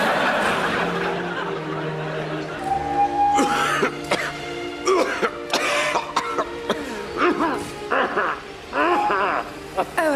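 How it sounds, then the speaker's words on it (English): A person coughs repeatedly at close range, a series of harsh, uneven coughs and throat-clearing bursts over a low background hum, mixed with a few breathy chuckles. "If only I could shake this blasted cough."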